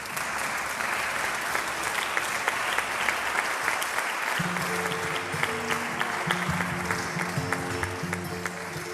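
An audience at a Christmas Nadalet event in Sabadell applauds for about nine seconds, dense sustained clapping at moderate loudness, with sustained musical tones entering partway through.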